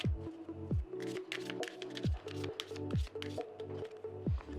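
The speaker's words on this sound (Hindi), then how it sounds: "Let's shuffle the cards" Tarot cards are shuffled by hand in quick, soft riffling bursts with short pauses between, close and quiet in a still room.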